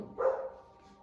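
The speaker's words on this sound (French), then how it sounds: "Je suis désolée pour mes chiens." A single short dog bark sounds from nearby, fairly faint, followed by quiet.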